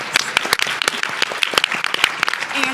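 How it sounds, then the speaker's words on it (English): Audience applause at a Rare Disease Week event on Capitol Hill, a crisp crowd clapping with distinct individual claps standing out, close and lively throughout the short clip. "Can we give them another round of applause?"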